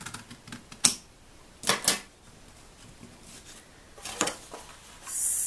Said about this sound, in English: I'm going to fold back my pattern to cut the two layers at the same time